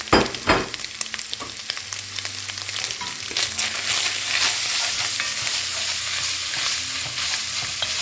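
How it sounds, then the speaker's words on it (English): Chopped garlic sizzles loudly in a hot pan with browned ground beef for hamburger soup, a steady crackling fry broken by occasional scrapes and clinks of stirring. "I'm going to go ahead and put the garlic in here. That's the chopped garlic."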